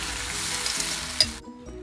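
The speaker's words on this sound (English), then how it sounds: "You can hear it sizzling as well" Chicken stock sizzling steadily in a hot pan for bouillabaisse, close by, with a brief clink before the sound cuts off abruptly.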